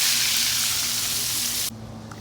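Bangamary fish frying in hot oil outdoors in a backyard, a dense continuous sizzle that abruptly drops to a softer crackle near the end, close and steady with a low hum beneath.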